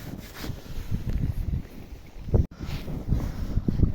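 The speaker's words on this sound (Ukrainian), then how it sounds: "піднявся вітерок" Wind gusts outdoors around burning homemade trench candles made in tin cans with wax and fat, a rough, fluttering rush that buffets the microphone with uneven surges throughout.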